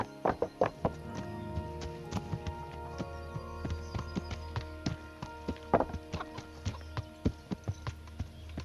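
Horse hooves clip-clopping in Kingdom Come: Deliverance, a steady run of close, hollow knocks with occasional faster clusters over a low background hum.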